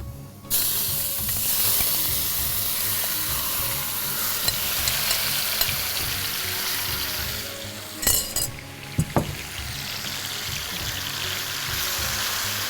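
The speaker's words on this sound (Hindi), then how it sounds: "इसको हम इसमें स्टर फ्राई करेंगे।" Golden-fried chunks stir-fried in a hot pan give a steady, close sizzle throughout, broken by a few sharp clanks of a utensil against the pan near the end.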